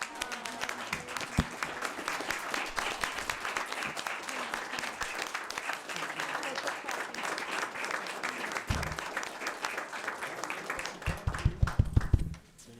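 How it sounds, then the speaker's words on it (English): A crowd applauds steadily for several seconds at a county Quorum Court meeting, dense clapping filling the room, swelling slightly and then ending with a few louder claps. "a round of applause"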